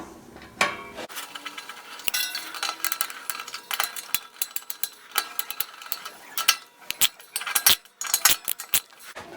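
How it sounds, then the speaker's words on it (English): A ratchet on an extension tightens the bolts of a Lincoln clay target machine, giving a run of sharp metallic clicks and taps in uneven bursts, close and fairly quiet. "use our extension and ratchet to tighten the 4 bolts"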